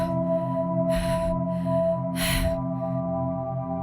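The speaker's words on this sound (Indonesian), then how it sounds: "wanita ini sepertinya mengalami sesak napas yang cukup serius" A woman leaning in an elevator, struggling to breathe, lets out two sharp, breathy gasps about a second apart over a steady electrical hum, with no speech.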